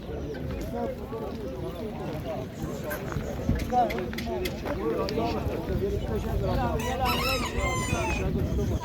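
A crowd of chickens at a bird market in Eskişehir, Turkey, clucks and crows continuously, close and busy, with people talking among them throughout.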